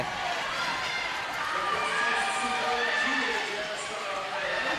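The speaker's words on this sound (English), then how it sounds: "And the crowd cheering." A roller derby crowd cheers in a loud, continuous roar, packed and close, with an announcer's voice running over it throughout.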